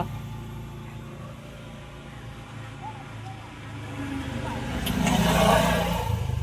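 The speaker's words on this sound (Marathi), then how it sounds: "कोणती तरी रिक्षा पण येत आहे कोणती तरी रिक्षा गेली पुढे बघा ही गेली रिक्षा" An auto rickshaw passes along a village road in the evening, its engine hum building from faint to louder near the end as it goes by, under steady background noise.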